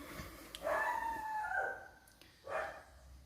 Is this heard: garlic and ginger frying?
no